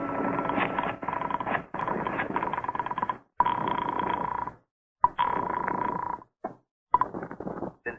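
A telephone is picked up and dialed as a sound effect in an old-time radio detective drama, heard as a series of close, buzzy mechanical bursts with a steady hum, broken by short silences.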